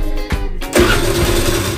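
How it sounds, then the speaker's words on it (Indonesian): A motorcycle engine cranks briefly, then catches and keeps running at a steady, loud idle close by. No one speaks. "Pero maandar na to. Okay na itong motor niya."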